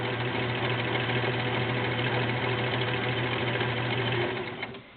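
Vintage Kenmore model 1774 sewing machine running a zigzag stitch, a steady close motor whir with rapid needle clatter held for about four seconds before winding down, no talking.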